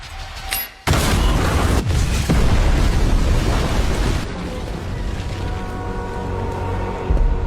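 A loud explosion from an explosive device in a film erupts with a sharp blast, then a sustained roaring rumble and debris that slowly fades over several seconds, with no talk.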